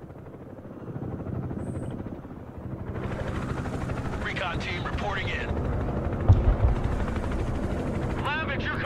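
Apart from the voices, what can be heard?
helicopters in the video game Broken Arrow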